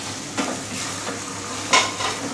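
Fried vegetables stirred into chicken manchurian in a hot pan: a continuous sizzle broken by a couple of sharper scraping stir strokes.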